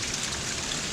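Light rain sprinkling steadily outdoors, a soft continuous hiss of fine drops with no distinct pattering, heard alone and fairly quiet throughout.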